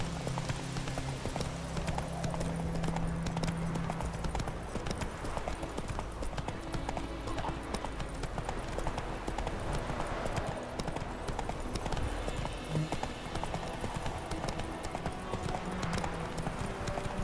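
Clip-clopping hooves of the horse Roach galloping steadily throughout in The Witcher 3, loud and continuous with game ambience underneath and a brief voice at times.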